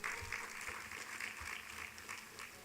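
Audience applause for the Honorable Minister at the launch of the Poverty Status Report 2021, a fairly faint, steady wash of many hands clapping throughout, with no one speaking.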